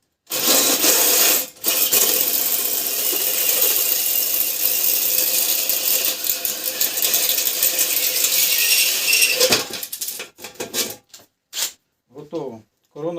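A hole saw bit drills a hole while building a smoke generator, a loud continuous grinding rasp running for about nine seconds, briefly interrupted, then stopping into scattered clicks and handling noises.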